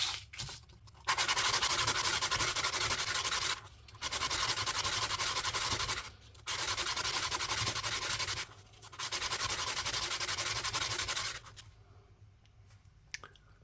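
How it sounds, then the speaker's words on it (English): Sandpaper rubbed over the edge of a copper coin ring, four long, steady scraping strokes separated by brief pauses, close and fairly loud, followed by quiet handling. "A bit of sandpaper. You just want to make sure that edge is nice and clean."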